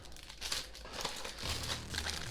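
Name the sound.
plastic bag crinkling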